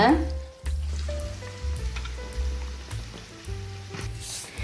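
Badusha pastries frying in hot oil with light bubbles, a steady soft sizzle with a few utensil clinks and background hum.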